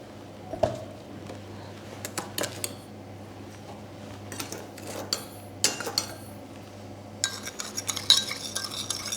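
A mixture being stirred in a pot until it melts for summer rolls, heard as irregular scraping and clinking of a utensil against the pot, with a faint hum underneath and busier scraping toward the end.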